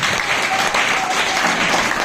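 A large audience claps loudly and steadily, a dense wash of applause filling the space without pause.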